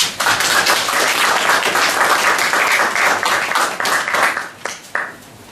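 An audience applauds the delegate at a World Ozone Layer Day event in Cameroon, dense sustained clapping from many hands that thins out toward the end, loud and close.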